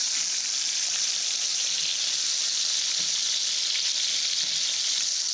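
A Delmonico steak sears in a hot pan, giving a steady, loud, broadband sizzle that holds without a break, with a few faint clicks now and then.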